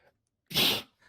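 A single sharp sneeze bursts out loudly and briefly, preceded and followed by a faint breath, close to the listener.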